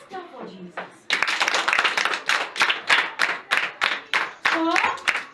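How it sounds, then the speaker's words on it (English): A group clapping in a steady, rhythmic beat during a church-style gathering, loud regular claps close by, with a voice speaking briefly before the clapping starts and singing over the beat later. "Let's clap for Jesus."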